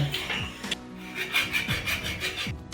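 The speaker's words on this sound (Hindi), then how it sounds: "इसलिए मैं इसकी डंडी को काट देता हूँ" A gear motor's shaft being cut by hand, a steady rasping back-and-forth stroke repeated about a dozen times, close and fairly loud with no talking.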